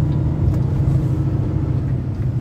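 An old, high-mileage truck drives along the road, giving a steady low engine rumble and road noise from inside the cab, loud and unbroken with no talk.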